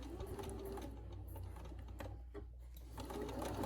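A sewing machine runs a back stitch and then stitches along the edge of a French-seamed pillowcase, a rapid mechanical whir close up that stays continuous with slight variations in speed.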